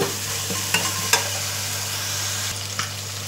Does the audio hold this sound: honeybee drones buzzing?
no